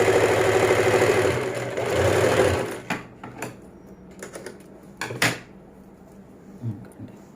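A sewing machine stitches a boat-neck blouse, running in a steady close whirring burst for a few seconds, then stopping, leaving scattered clicks and handling noises.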